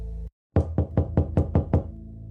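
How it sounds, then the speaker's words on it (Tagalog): Knocking on a house door: six firm, evenly spaced raps, close and loud, after a brief silence. "Sa bahay ni Marina, may kumatok na employee ng LBC pera padala."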